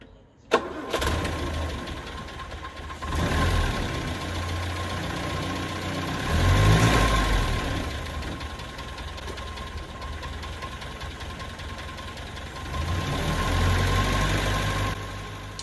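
A car engine fitted with an SU electric fuel pump cranks briefly, catches and settles into a steady, close idle with a slight knocking rumble and a constant high whine, no talk.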